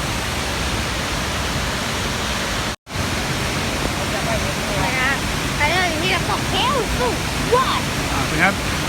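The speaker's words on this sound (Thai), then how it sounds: "นี่ก็เลยเป็นน้ำตก" Steady, broad rushing water of Haew Suwat waterfall in Thailand roars continuously up close, with faint chirping or voices faintly above it midway.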